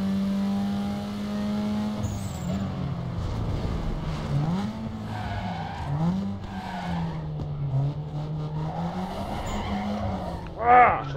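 A car drifting in Need for Speed Underground 2, a sustained engine drone with long wavering tire squeals and skids that rise and fall, ending in a sharp louder screech near the finish.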